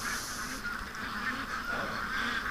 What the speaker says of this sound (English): I got a whole bunch of freaked out ducks